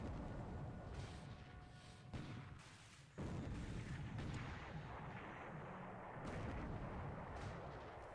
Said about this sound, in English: 50 caliber machine guns are causing my ships to catch on fire